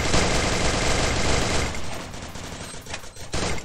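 Rapid automatic gunfire in a video game bursts in dense, loud volleys, then thins into scattered shots after the first couple of seconds.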